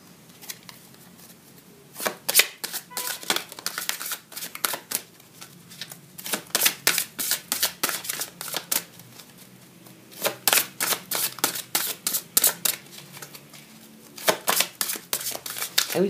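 Tarot cards being shuffled by hand during a reading, crisp riffling and slapping clicks in irregular clusters, close and fairly loud, with short pauses between bursts.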